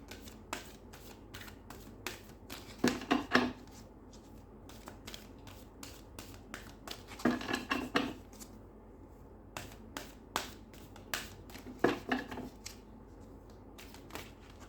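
Tarot cards are shuffled by hand close by, soft flicking and riffling in three main bursts separated by quiet pauses, with scattered single card taps between them.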